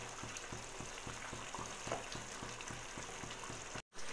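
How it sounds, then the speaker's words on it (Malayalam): Green chilli chicken masala sizzling and frying in an open pan, a steady close hiss with a faint regular low thumping beneath it and a brief dropout near the end, and no voices. "എന്നിട്ട് നമുക്ക് നല്ലതായിട്ട് ഒന്ന് ഇളക്കി കൊടുത്ത് തുറന്ന് വെച്ച് തന്നെ ഇതൊന്ന് പറ്റിച്ച് വേവിച്ചെടുക്കാം"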